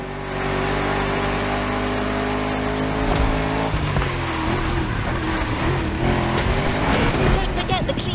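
A Lamborghini in The Crew Motorfest roars along with a strong, steady engine drone, then shifts into rougher, revving tones as the tires squeal through a hard turn, loud and close throughout.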